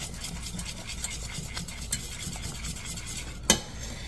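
Beef tips fry in a pan with steady close sizzling and crackling, scraped now and then by a stirring utensil, and a sharp pop near the end.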